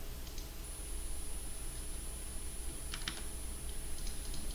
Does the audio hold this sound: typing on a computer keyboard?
yes